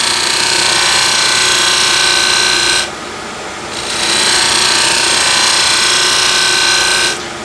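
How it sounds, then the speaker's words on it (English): A scraper with a pulled burr shears across a surface in long, loud, continuous strokes, a dense hissing scrape that breaks off briefly before resuming. "I have a pulled burr on my refiner, and I'm just going to shear scrape."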